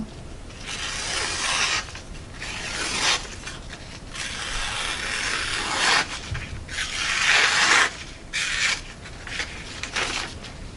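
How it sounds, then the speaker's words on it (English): A knife in CTS 204P steel slices through phone book paper in close, repeated rasping strokes, each stroke a scratchy burst separated by short pauses, with no voices. "Test the phone book paper."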